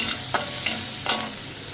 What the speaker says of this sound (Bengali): তেল আর কাঁচা মাছ ভেজে নিয়েছি লতি ভিজিয়ে দেবো হালকা একটু তেলে ভেজে নিলাম